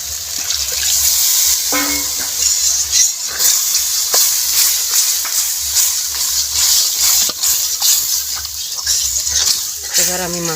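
Water poured onto a fried spice mixture in a pan on a Bengali home stove sets off loud, continuous hissing and sizzling steam that lasts throughout, with brief traces of a voice now and then.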